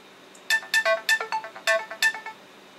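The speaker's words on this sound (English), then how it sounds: "The text message ringtone is pretty cool too." An Android text message ringtone on an HTC EVO 3D running Android 4.0.4 CM9 plays a quick bright melodic chime of about seven clear electronic notes, close and alone.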